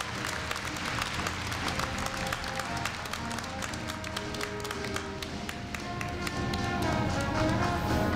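Audience applause at a Korea University freshman entrance ceremony, sustained clapping from a large crowd that swells toward the end, with no speech over it.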